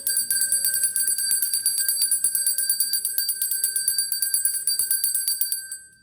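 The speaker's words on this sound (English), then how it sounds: "let me ring the bell. I'm going to clear out any lingering negative energy." A bell rung repeatedly in a rapid, steady series of bright metallic strikes with a shimmering ring that sustains throughout, loud and close, with no talking, used as a ritual to clear negative energy.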